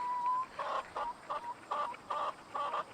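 A hen clucks repeatedly in short rhythmic bursts before laying an egg, fairly close, over a steady background hiss.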